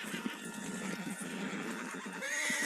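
A horse in the video game Red Dead Redemption 2 lets out a loud, close neigh that swells into a high whinny near the end, with faint hoof sounds and ambient game noise beneath.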